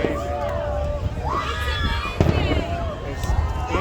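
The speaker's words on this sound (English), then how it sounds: "I think they had to get rid of all the 9 o'clock fireworks right now too." Fireworks explode over Sydney with repeated booms and crackles echoing at a distance, under crowd noise and people talking nearby.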